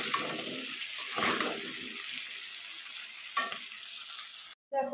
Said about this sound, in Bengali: ওল আর আলুটাকে কিন্তু লাল লাল করে ভাজা করে নিতে হবে।